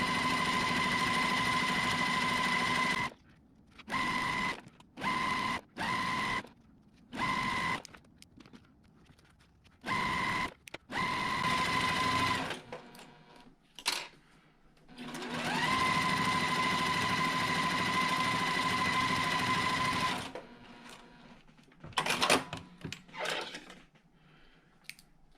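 A sewing machine stitches fabric for half square triangle quilt blocks in a series of whirring runs, some short and some several seconds long, separated by quiet pauses and small handling clicks.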